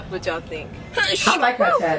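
A single sharp human sneeze bursts out partway through, close and fairly loud, set between casual conversational talk before and after it.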